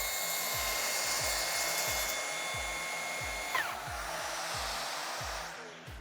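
Milwaukee plunge saw trims excess splinter guard at a shallow 2–3 mm depth into a sacrificial timber piece below, a steady loud motor whine with a rhythmic low pulsing cut, shifting pitch briefly near the end.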